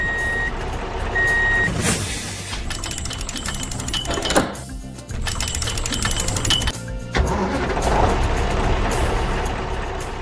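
A large tow truck's engine rumbling nearby with steady high reversing beeps, clattering mechanical noise throughout.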